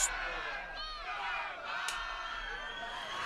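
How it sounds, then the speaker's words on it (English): A first grade rugby league crowd at Orara Valley versus Woolgoolga jeers a player heading to the sin bin, a distant roar of shouts and whistles swelling and dipping under a commentator's voice. "The crowd give him plenty of what for as he comes off here now."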